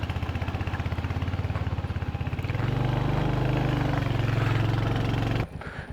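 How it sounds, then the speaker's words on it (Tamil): A Royal Enfield motorcycle engine thumps in a steady rapid beat, then swells into a louder continuous roar as it revs before cutting off abruptly near the end. "இந்த ராயல் என்ஃபீல்டு ஓட்டிகிட்டு மோட்டோ விளாக் பண்ணுறதெல்லாம் ரொம்ப கஷ்டம்னு நினைக்கிறேன். ஏன்னா சவுண்டு எனக்கே காதடிக்குது டப்பு டப்பு டப்புன்னு."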